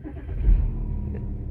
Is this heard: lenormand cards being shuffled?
no